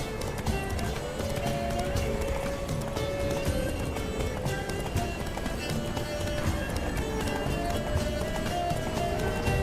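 Rapid hoofbeats of a horse at full gallop in The Witcher 3: Wild Hunt, steady and continuous throughout, with a brief whinny and a busy backdrop of game music and effects.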